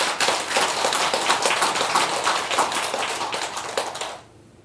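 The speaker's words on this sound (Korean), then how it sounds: "박수 쳐주세요." Worshippers clap at a Wednesday Buddhist dharma service, a dense, steady round of applause from a gathered congregation that runs evenly for about four seconds, then cuts off into near silence.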